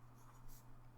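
A vintage 1990s Lamy Safari fountain pen scratches faintly across paper in a short, soft stroke, very quiet and close.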